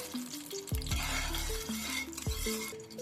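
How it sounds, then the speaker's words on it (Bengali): Two spoonfuls of ghee heat in a hot wok (kadai) for Bengali shemai kheer, giving a steady sizzle under stirring and a few clinks of a utensil against the pan, close and alone with no talk. "ভালো করে কড়াইটা গরম হয়ে গেছে এর মধ্যে আমি দিয়ে দিচ্ছি দুই চামচ ঘি"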